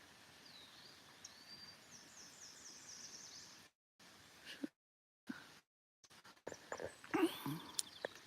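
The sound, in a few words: ovenbird singing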